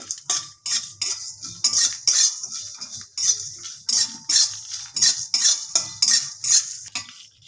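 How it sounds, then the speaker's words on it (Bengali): Dry spices, cumin, dried chilli and cinnamon, rattle in a pan as a utensil scrapes against the metal again and again in quick, rhythmic strokes. No one speaks. "এবার শুকনো মশলাটা ভেজে নেব জিরে লঙ্কার সঙ্গে"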